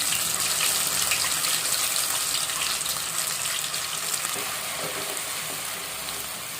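A paste of onion, garlic, ginger and fresh coconut dropped into a hot pan for a fish curry, giving a loud, continuous hissing sizzle that eases slightly toward the end, with no talking.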